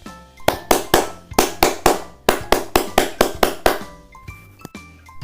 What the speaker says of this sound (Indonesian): Pramuka memiliki tepuk tangan yang khas. Tepuk tersebut disebut tepuk pramuka.